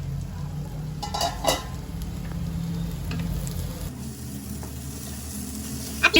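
Maharashtrian-style egg bhurji sizzles steadily in a pan while a spoon stirs it, giving a few sharp scrapes and clinks early on, close and moderately loud.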